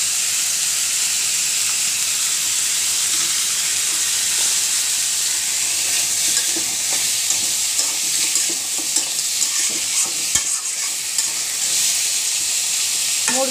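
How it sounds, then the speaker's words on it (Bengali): Chicken pieces and tomato frying together in hot oil in a pan, a loud steady sizzle with hissing steam and occasional stirring scrapes, close up and without talk. "মুরগি আর টমেটো ভাজা হতে হতে আমি ডালটা তেলে দিয়ে দেবো"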